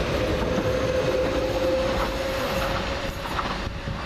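A London Underground train at Shadwell rumbles past close by, wheels grinding steadily with a faint high squeal running through the loud, continuous noise.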